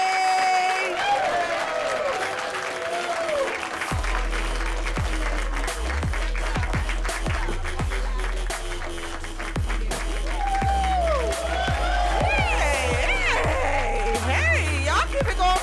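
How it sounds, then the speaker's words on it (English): A comedy show crowd claps and cheers steadily while a host talks loudly over music with a booming beat, and the applause carries on throughout. "I need everybody clapping right now."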